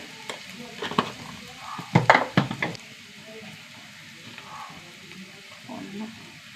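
Ginger and garlic sizzle in an oiled pan as spice powders go in, with a steady frying hiss and a burst of sharp stirring scrapes near the middle before the sizzle settles back to a soft, even crackle.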